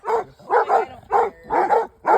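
A pet dog barks in a steady series of five loud, close barks, evenly spaced, with no talking.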